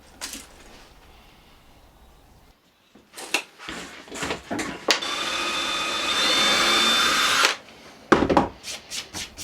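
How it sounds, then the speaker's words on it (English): Clattering handling noises lead into a steady high-pitched whir of a power drill boring holes for door handles in a wooden end table for a few seconds, then more knocks and taps nearby. "I came back to drill some holes for the door handles to be mounted."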